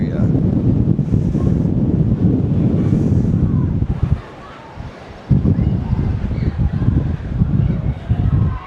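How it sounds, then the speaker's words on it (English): Strong wind rushes through a valley gulch at the Malahat SkyWalk on Vancouver Island, roaring and buffeting the microphone almost throughout, with one brief lull midway. "this is obviously a nice little valley or gulch here, so the wind flies through here."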